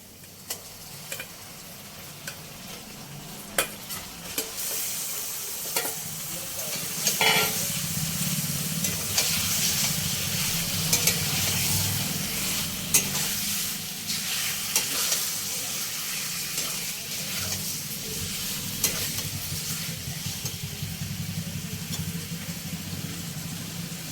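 Marinated chicken sizzles steadily in hot oil with ginger and garlic, a continuous close frying hiss broken by occasional spatula clinks and scrapes against the pan.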